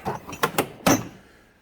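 A tool drawer in a workshop tool chest slides, with a few short metallic rattles and a firmer clunk near the end, then quiet.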